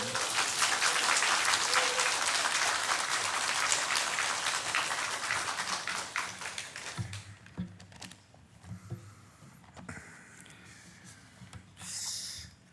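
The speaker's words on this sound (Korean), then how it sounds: "나오실 때 환영의 박수를 크게 쳐주시기 바랍니다" Church congregation claps in welcome for a missionary coming up to preach, a full burst of applause for several seconds that thins out into quieter room noise with a few faint sounds.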